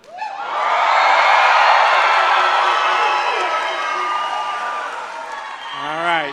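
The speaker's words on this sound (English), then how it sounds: "Let me hear that cheer one more time." Large commencement crowd at a college graduation bursts into loud cheering, whoops and applause that swell, hold for several seconds and fade, followed by a voice starting to speak.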